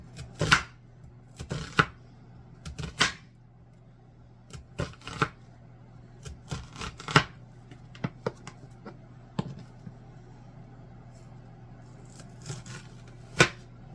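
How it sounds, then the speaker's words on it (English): A knife slices thin onion into sharp, separate cuts on a board, with irregular chopping taps spaced over a quiet kitchen background and a steady low hum. "I'm just going to slice up some thin slices of onion"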